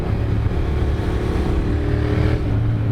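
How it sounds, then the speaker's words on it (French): Yamaha MT motorcycle engine droning steadily while riding through the Cévennes mountains, a continuous close rumble with a low, even hum and no clear revving, alone with no voices. "Le son de la MT."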